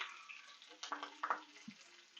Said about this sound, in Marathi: कढीपत्ता टाकून घ्यायचा इथे आपली फोडणी रेडी आहे